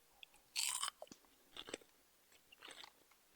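Pizza-flavoured corn puff snacks crunched up close, a few sharp crisp bites followed by softer chewing, quiet and alone without talk.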